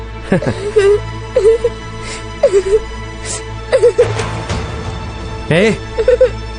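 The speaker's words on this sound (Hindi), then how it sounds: "मैं तंग आ गया उसके रोने की आवाज से।" A child cries and whimpers in short, repeated wailing bursts near the listener, pitched sobs recurring every second or so over a low steady hum, with speech-like voicing mixed in.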